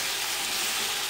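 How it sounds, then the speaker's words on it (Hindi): Pulao ingredients frying in a pot until golden brown: a steady, even sizzle throughout, with a short louder burst of crackle at the very end. "इसको हम फ्राई कर लेते हैं जब तक ये गोल्डन ब्राउन हो जाए"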